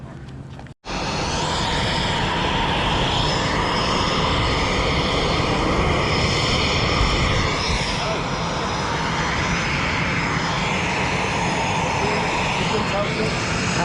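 Aircraft engine starting up and running steadily as the plane taxis at the Southend air show, a loud, continuous roar with shifting tones, people talking nearby over the noise.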